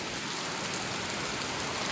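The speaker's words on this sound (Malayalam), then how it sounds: "നല്ല മഴയാണ് കേട്ടോ ഗൈസ്." Heavy rain falls at night in a steady, dense hiss of close, loud rain on surfaces, continuous and alone without talk.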